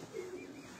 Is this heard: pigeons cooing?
yes